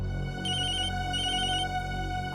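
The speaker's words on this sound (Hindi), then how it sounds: "आपका फोन बज रहा है।" A telephone rings in a home with two bursts of bright electronic trilling over a steady hum of background music, with no voices during the rings.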